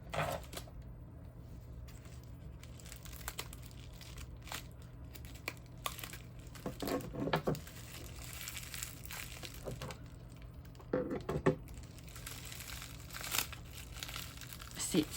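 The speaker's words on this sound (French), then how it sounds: "C'est emballé tout dans du papier bulle et très bien, très collé" Bubble wrap packaging crinkles and crackles in bursts as it is handled and pulled open, close up, with a low steady hum underneath.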